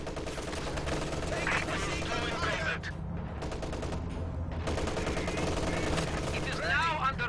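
Two MG34 machine guns trade sustained automatic fire in the WWII strategy game Company of Heroes 2, a loud continuous rattle with a brief lull midway, and someone commentator speaking over it.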